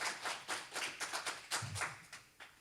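A church congregation applauds during a Sunday worship service, a dense run of many hands clapping in uneven bursts that stay fairly steady and moderately loud for a couple of seconds, with no talking over it.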